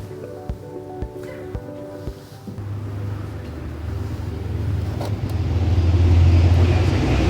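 A car gearbox runs with a steady mechanical whine and hum, a few soft clicks early on, then a rising, louder drone toward the end with no one talking.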